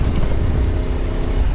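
An adventure motorbike coasting downhill on gravel makes a brief, loud, steady roar of wind, engine and tyre noise with no talk.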